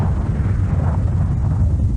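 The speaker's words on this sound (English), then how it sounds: "Nuclear explosion." A nuclear explosion blast comes through as a loud, unbroken, deep roaring rumble, with dense low-end power and no pauses.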